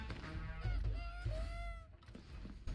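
A chicken clucks and squawks in the background, sounding as a few short rising and falling calls followed by a brief pause.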